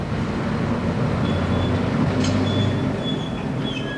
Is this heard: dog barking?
no